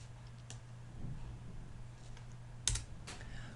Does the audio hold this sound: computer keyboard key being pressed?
yes